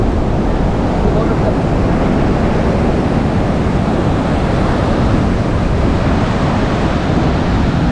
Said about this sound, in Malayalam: ബീച്ച് ടൈപ്പ് ഒന്നും അല്ല, കടൽ തീരമാണ്.